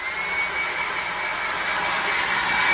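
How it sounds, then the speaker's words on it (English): An old hair blow dryer runs at full power, a loud, steady, close whooshing roar that holds without change for the whole stretch, alone with no other sounds. "Blow dryer."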